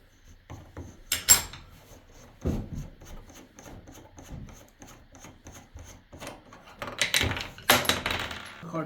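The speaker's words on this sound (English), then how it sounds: "Now you can use this small wrench to open up this cartridge nut." A small wrench works loose the cartridge nut on a Moen bathtub faucet, giving faint scraping, rubbing and metallic clinks in bursts with quiet gaps between them.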